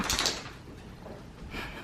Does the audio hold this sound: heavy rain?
no